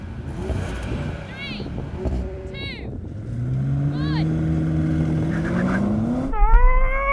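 An Audi performance car's engine revs up at a race start, rising harmonic tones climbing then sagging as it bogs down, followed by a sharp rev surge near the end; a voice talks over it.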